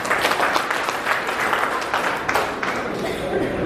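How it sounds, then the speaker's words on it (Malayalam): An audience claps for Suresh sir after a class, a loud, dense round of applause from many hands that holds steady for several seconds. "സുരേഷ് സാറ് നല്ലൊരു കൈയടി കൊടുക്കാം"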